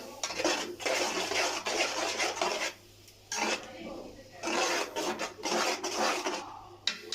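Cauliflower pieces being tossed together with crushed chilli and salt in a bowl give repeated close scraping and rubbing bursts, with a brief pause midway.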